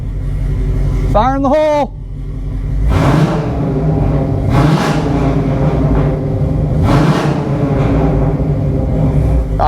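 A 2003 Hummer H2 with an LQ4 V8 is revved in several strong, rising bursts between lower idle stretches, loud and close, after a brief spoken call near the start.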